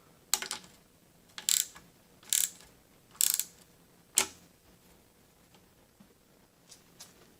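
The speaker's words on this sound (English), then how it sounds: "A 10mm wrench will let you tighten it down." A 10mm wrench ratchets a bolt tight during guitar assembly, giving five crisp clicking bursts at a steady pace about a second apart, then a few faint ticks, close and clear with no talking.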